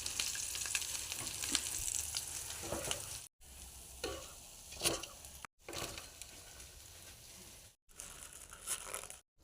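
Besan-battered pieces frying in oil, a steady broadband sizzle broken by brief silent cuts, with stirring and crackling bursts rising over it, close and moderately loud with no talk.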